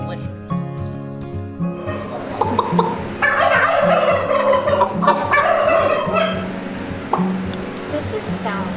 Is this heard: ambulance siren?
no